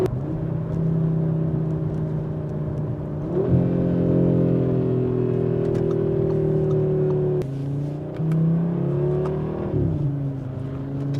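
A 2025 Audi RS3 facelift engine pulls hard at full throttle, loud from inside the cabin, with steady rising harmonics that dip briefly at two gear changes before climbing again.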